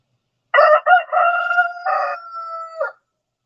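A pet rooster lets out a loud, close cock-a-doodle-doo crow, one drawn-out call with a clipped start and a falling finish, clear against silence.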